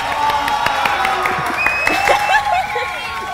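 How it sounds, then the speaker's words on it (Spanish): Studio audience applauding and cheering for a guest named Miguel on a television show, a steady wash of clapping with scattered whoops and shouts, fairly loud and continuous. "Aplauso para Miguel."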